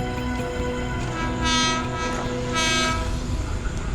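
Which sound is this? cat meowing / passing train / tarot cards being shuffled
passing train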